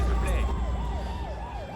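An ambulance siren wails in a steady rising and falling cycle, loud and close over a low traffic rumble.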